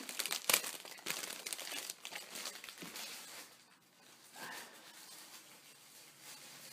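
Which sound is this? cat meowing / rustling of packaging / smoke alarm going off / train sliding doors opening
rustling of packaging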